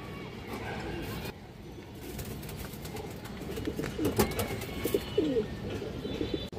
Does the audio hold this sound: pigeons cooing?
yes